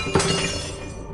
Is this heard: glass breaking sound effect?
yes